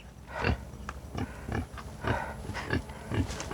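A pig grunts repeatedly at close range, short low snorting grunts coming in a steady irregular rhythm.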